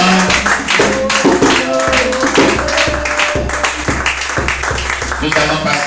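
A church congregation at a worship service claps in acclamation of the Lord, a continuous loud patter of many hands with a steady rhythmic pulse. A voice speaks throughout over the clapping.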